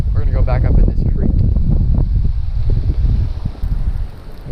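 Strong, steady wind buffets the microphone at a creek during a bass fishing outing, a loud low rumble throughout with a person talking over it.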